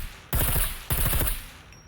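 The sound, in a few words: silenced rifle firing full auto in video game SCUM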